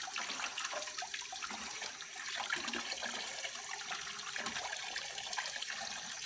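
Hot water gushes straight out of an open faucet pipe in a Quonset hut bathroom, a steady broadband rushing hiss that holds for several seconds, close and fairly loud, with no voices.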